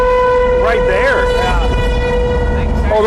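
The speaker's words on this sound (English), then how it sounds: "No, That's a siren." A warning siren wails from a distance during a tornado storm chase, its rising and falling tone drifting under road rumble and vehicle noise while people talk over it.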